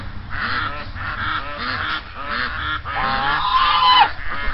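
Several geese honk loudly and repeatedly nearby, a raucous overlapping chorus of calls with a few rising squawks.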